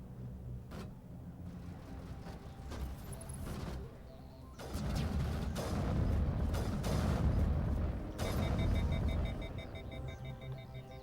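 Heavy booming explosions and rumbling blasts in Mass Effect Legendary Edition, several bursts building into a dense, loud roar with sharper cracks scattered through.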